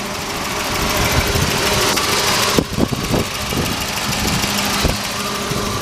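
A 1992 Volvo 240DL engine idles steadily at close range, a continuous mid-pitched rumble with a few brief knocks and thumps partway through.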